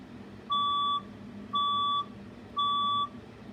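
Three fire alarm test tones, each a steady half-second electronic beep separated by short gaps, clear and alone over a faint low hum.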